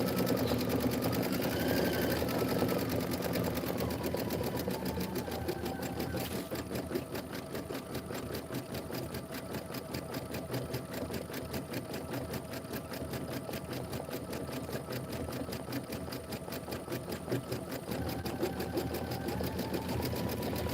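An embroidery sewing machine stitches through batting on a Kimberbell Home Sewn tiling project, a steady rapid mechanical whirr running nearly continuously at moderate level, with a slight shift partway through.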